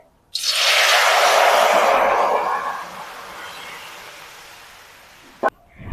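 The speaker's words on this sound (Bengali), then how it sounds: "এবার আমি কুলগুলা দিয়ে দিচ্ছি কড়াইয়ে" A sudden loud sizzle as jujube fruits hit hot oil in a wok, hissing strongly at first and then fading over several seconds, with a brief clatter near the end.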